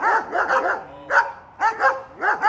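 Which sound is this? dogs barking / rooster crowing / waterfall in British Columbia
dogs barking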